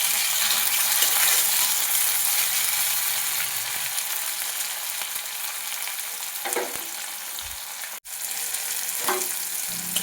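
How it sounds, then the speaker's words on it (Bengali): Onion, ginger, garlic and chopped tomato fry in a pan, giving a loud, continuous sizzle with brief stirring scrapes near the end and one short gap. "পেঁয়াজ, আদা, রসুনটা একটু ভেজে নিয়ে এর মধ্যে দিয়ে দেবো টমেটো কুচি।"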